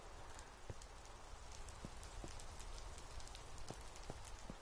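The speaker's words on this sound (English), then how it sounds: "Thank God it rained." Rain falling steadily in Minecraft, a faint, even patter that holds throughout with a few soft, scattered ticks over it.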